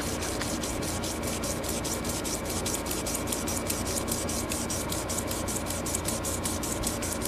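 Polishing film rubs rhythmically over a rusty hatchet hammer head, a fast, steady scratchy back-and-forth sanding stroke repeated evenly and close, with no talk.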